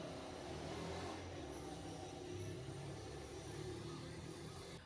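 A motorcycle passing outside, heard as a continuous muffled engine drone that swells slightly and holds steady, somewhat distant and indoors-sounding.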